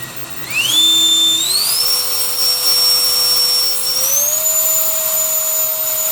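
Booster TF64 turbo fan blower, a battery-powered blower for drying cars and clearing leaves and dust, whines loudly and steadily, its tone stepping up in pitch several times as the speed rises, with no talking.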